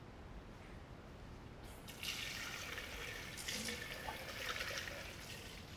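Running water from a kitchen tap splashes onto a pan being washed, starting after a quiet moment and continuing as a steady, faint hiss with small clatters.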